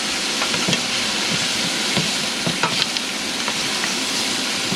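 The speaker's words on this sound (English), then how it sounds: "we're gonna let that cook in the oil for a few minutes." Potato, leek and carrot sizzling and frying in oil in a pan, a steady hiss with occasional crackles and pops, close and fairly loud, no voices.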